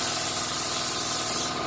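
A compressor-fed spray gun hisses loudly and continuously at close range while paint is sprayed onto the trunk of a Cutlass car, a steady broadband rush with no talking.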